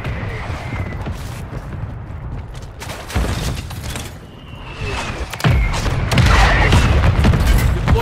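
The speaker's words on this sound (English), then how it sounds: "Mortar strike on the way." Mortar strike explosions in a Call of Duty MW3 team deathmatch, heavy booming impacts landing in succession over a steady din of gunfire and battle noise, loud and close.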